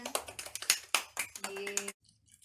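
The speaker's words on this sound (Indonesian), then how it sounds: "Terima kasih kelompok 1. Tepuk tangan." Scattered hand claps from a small classroom group after group 1's presentation, a couple of seconds of uneven clapping mixed with voices, then stopping abruptly.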